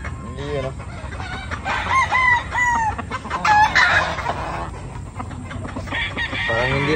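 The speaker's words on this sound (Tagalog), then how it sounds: "Ayun yung manok, mga gandang alagaan mga bossing." Gamefowl rooster, a gentle tame bird, clucking and crowing up close in repeated calls, with a voice talking over parts of it.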